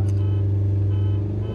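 The tuned Tata Harrier and tuned Hyundai Creta on a drag strip produce a loud, steady engine drone with a strong low hum, held close and constant.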